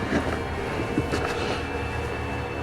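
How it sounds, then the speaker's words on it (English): A steady, heavy rumble of an approaching train, continuous and fairly loud, with a faint rattle over the low roar. "The train's coming."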